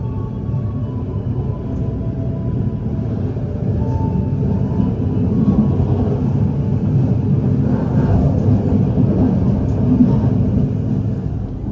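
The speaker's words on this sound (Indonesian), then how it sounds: "kereta api Tawang Jaya ini sudah berangkat dari stasiun Weleri ya" The Tawang Jaya passenger train departing Weleri station, a steady low rumble of wheels and carriage noise that grows slightly louder as it gathers speed, heard from inside the train.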